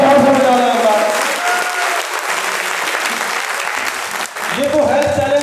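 A large seminar audience at an RCM Business event claps harder, with broad sustained applause running throughout while a voice talks over it at the start and again near the end.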